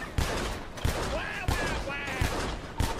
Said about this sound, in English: They're shooting a lot.